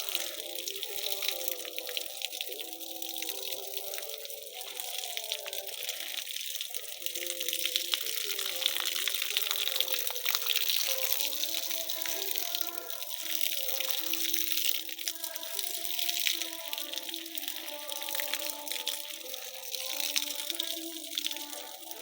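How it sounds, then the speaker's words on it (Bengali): Water from a battery-powered submersible bilge pump pours steadily out of a one-inch delivery pipe, watering trees on a farm. The continuous splashing runs throughout while a person talks over it. "1 ইঞ্চি ডেলিভারি পাইপ থেকে পানি পড়ছে।"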